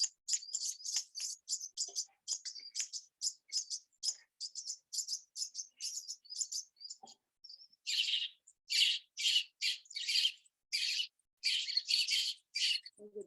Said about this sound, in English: There's the baby robins in that nest